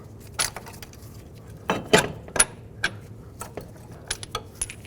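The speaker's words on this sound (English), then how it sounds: "Now you can remove these bolts." Metal bolts clink and rattle as they come out of a 2002-06 Toyota Camry steering knuckle, a string of sharp close metallic taps and jingles at uneven intervals.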